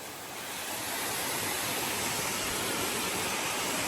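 Mountain waterfall on the Agathiyar Malai trek: a steady, broad rushing roar that swells during the first second and then holds at a constant level, with no voices.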